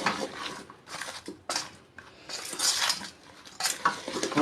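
Ber (kul) pickle being stirred in a pan with a metal spoon, a series of irregular scraping and clinking strokes in short bursts, close and clear with no talk.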